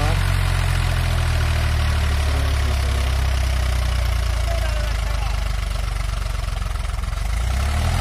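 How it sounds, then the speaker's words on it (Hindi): A Mahindra 265 tractor rated at 29 HP, running in second gear and pulling a Shaktiman 7-foot semi-champion rotavator, produces a loud, steady, low engine drone that holds without a break from start to finish. "ये पहले के लोग शक्तिमान का 7 फीट का सेमी चैंपियन रोटावेटर लेके चल रहे हैं।"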